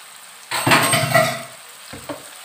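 Ginger garlic paste and spices hit a hot pan with a brief burst of sizzling and frying, then a quick clink of a utensil against the pan, close and with no voices.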